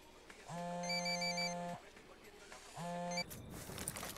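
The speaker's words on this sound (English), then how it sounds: "looks like a phone's ringing down there" Phone ringing in a cartel-themed video game: two electronic rings, each lasting about a second, heard at a distance beneath game ambience, followed by a burst of noise.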